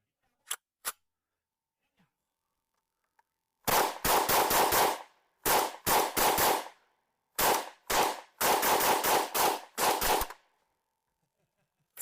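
An FN P90 fires live rounds: a few isolated shots, then several rapid bursts of sharp, loud reports separated by short pauses, heard close with no talk.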